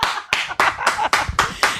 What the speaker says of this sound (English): Kyle is clapping like the seal that he is